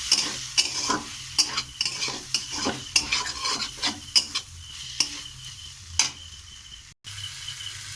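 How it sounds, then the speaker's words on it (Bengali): Vegetables frying with raisins and chaat masala are stirred in a pan, a steady sizzle broken by repeated sharp scraping strokes of the spoon, close and fairly loud, with no talking. "দিয়ে এটাকে ভালো করে মিশিয়ে নেব"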